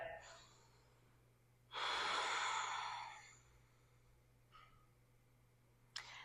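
Deep breath during yoga practice, a single long, soft inhale-exhale heard close up in a quiet room, followed by a couple of faint shorter breaths.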